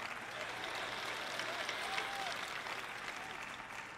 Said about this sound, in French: je suis heureuse que vous applaudissiez